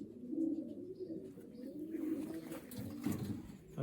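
A blue cock yearling racing pigeon coos softly while held in the hand during basketing, a steady low burbling croon that runs almost continuously and close, with faint handling rustle.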